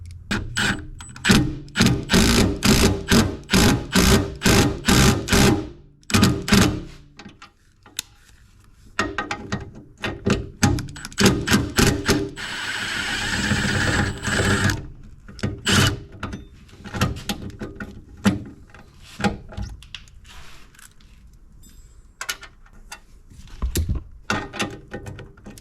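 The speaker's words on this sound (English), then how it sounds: "And then take your impact gun and hope it's the hole's not too big." Loud impact gun tightening a nut on a homemade overlanding tailgate table, firing in rapid hammering bursts separated by pauses, with a sustained whirring run in the middle and more short bursts later, close up with no talk.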